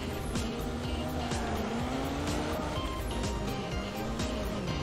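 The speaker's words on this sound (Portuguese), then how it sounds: "E agora eu posso andar com o carro." A Chrysler car driven in a simulator video game, with a continuous engine drone whose pitch rises and falls as it shifts, plus occasional tire noise, steady and moderately loud.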